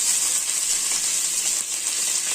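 Cabbage sizzling in hot oil for egg noodles, a steady bright hiss of frying at close range with no talking over it.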